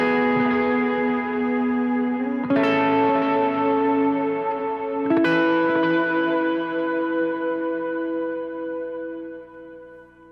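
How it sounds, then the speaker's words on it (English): Electric guitar with overdrive and effects rings out in long sustained chords for a worship song, with two fresh strums about two and a half seconds apart, each swelling with echo and reverb before slowly fading, and no talk. "and with overdrive and some effects on, it's going to sound like this."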